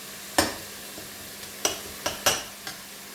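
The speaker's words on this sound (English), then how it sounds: "Now just cook off the onions until they go nice and mushy." Onions cooking in a pan for chicken jalfrezi, with five sharp spatula scrapes and knocks spread unevenly over a faint background sizzle. Close, and no one speaks.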